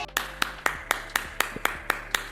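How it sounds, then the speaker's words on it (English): People in a bar clap, a run of about nine sharp, evenly spaced hand claps with a steady rhythm, fairly close and clear over a low background hum. "Everyone at the bar starts clapping for you."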